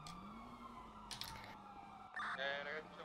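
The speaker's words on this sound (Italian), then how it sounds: "Ecco l'ambulanza." A wailing ambulance siren in the video game GTA V on a FiveM roleplay server, faint and distant under quiet game ambience, with sharper bursts of noise near the end.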